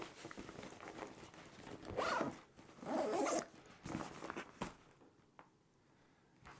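A zipper on a 20-liter daypack backpack being drawn closed in several quick pulls, close and fairly soft, with short pauses and light handling rustle between strokes.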